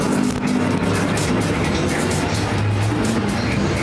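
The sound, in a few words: figure 8 race cars racing at Perris Auto Speedway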